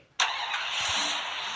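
A car engine in a video game starts with a sudden burst and settles into a steady bright hum, fairly faint, with no talking.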